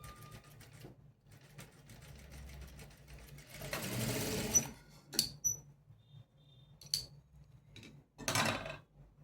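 A sewing machine runs in short bursts while stitching a three-dart blouse, with quiet pauses and light handling clicks between the runs.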